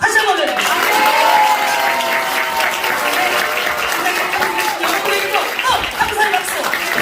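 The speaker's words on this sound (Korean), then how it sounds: "하나님께 감사의 박수 다시 한번 드립니다" A church congregation claps warmly and continuously at a Los Angeles Korean church's dedication worship for its new building, a loud, even wash of hands with voices and faint tones running underneath.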